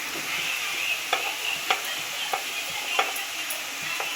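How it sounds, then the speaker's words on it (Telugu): Fish curry base frying in a pan with salt and turmeric, a steady close sizzle broken by several sharp scraping stirs at irregular intervals, no voices. "సాల్ట్ వేసుకొని కొంచెం ఫ్రై చేసుకొని ఇప్పుడు పసుపు"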